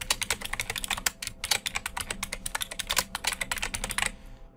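Rapid, close clattering of a computer keyboard as a name is typed for a new concept map, with irregular bursts of keystrokes that stop abruptly near the end.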